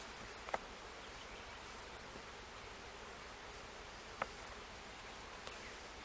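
Honey bees hum in a steady, faint buzzing drone as honey frames are lifted from their hive during a split, with a couple of soft clicks breaking through.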